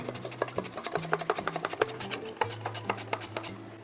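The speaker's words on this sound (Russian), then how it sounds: "Тонкими дольками порежу картофель на терке мандолине" Potatoes being sliced thin on a kitchen mandoline, straight into a baking dish: a fast, steady run of crisp rasping strokes, close and loud, with no talking.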